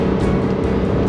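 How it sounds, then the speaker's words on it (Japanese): Dense traffic on a wide multi-lane California road gives a continuous, fairly loud whoosh and roar of many passing vehicles, with no voices. "車の量がすごいわ、やっぱり。"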